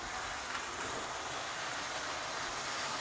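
An American Flyer 350 Royal Blue model train runs along its track with a steady, dense hiss and rolling rumble, close and continuous throughout with no voices.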